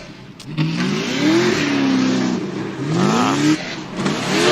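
A Formula Drift car engine is restarted and revved, with two rising revs and a steady mid-pitched engine drone in between, loud and close and without talk.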